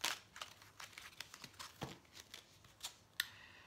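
An angel oracle card drawn from a deck during a French tarot reading: a few close, soft crinkly slides and flicks with a sharp snap toward the end, nearly alone.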